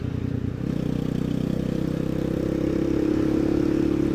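Chinese Honda Grom clone motorcycle fitted with a ZS-190 engine, ridden on a curvy road with a loud close engine drone that climbs gradually as it accelerates, plus wind rush and no talking.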